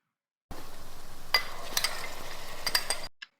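Ginger garlic paste drops into onions frying in a pan, giving a steady sizzle with several stirring clinks of a spoon against the pan.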